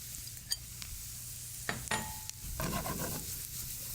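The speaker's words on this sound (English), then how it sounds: "going to add our lovely button mushrooms to the pan" Button mushrooms hitting hot olive oil in a pan, a soft steady sizzle with a few utensil clicks and scrapes as they are stirred, close and fairly quiet.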